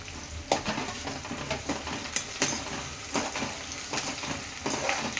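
Amaranth leaves, curry leaves and green chillies frying in a pan, giving a close, steady sizzle broken by scraping clicks and stirring knocks throughout, with no talk.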